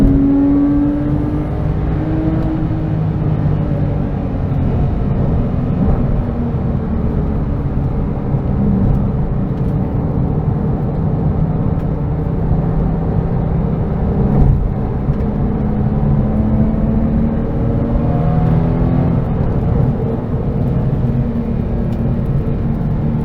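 A Porsche 911 (997) GT3 RS engine revs hard and steadily up close, its pitch rising and falling over a continuous roaring drone, with no voices.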